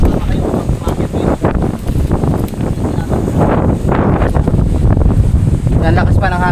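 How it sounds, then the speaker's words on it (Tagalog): Strong wind buffets the microphone at a high, exposed spot, a steady loud roar with gusts while people talk over it. "Yan, lakas pa ng hangin."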